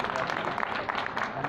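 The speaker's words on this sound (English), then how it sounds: "A big applause for them." Conference audience applauding in a university auditorium, a dense even patter of clapping at moderate level, with speech mixed in.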